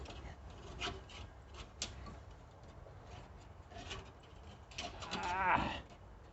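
A seat belt strap is pulled through a hole in the cab of a 1955 Chevy pickup, producing faint, intermittent rubbing and scraping, with a louder rasping drag near the end.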